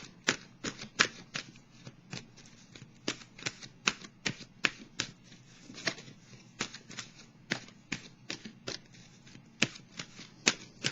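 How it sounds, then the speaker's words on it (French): Oracle cards from an intuitive-soul oracle deck being shuffled and drawn, a steady run of quick papery riffling snaps and flicks repeating close to the mic, with no voices. "Je vais piger une carte de l'oracle de l'âme intuitive."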